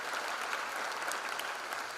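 An audience at a freshers' induction programme gives a big round of applause, with uniform, dense clapping from a large crowd heard somewhat distant and soft, unbroken throughout.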